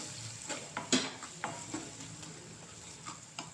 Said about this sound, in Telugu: ఇవి ఉల్లిగడ్డలు అన్నీ సమానంగా వేగుతాయి.